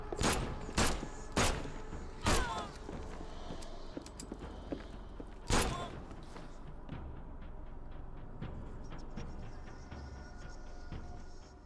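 An enemy fires a gun in the horror game The Sinking City: about five sharp, loud shots spaced a second or more apart over a soft rustling background.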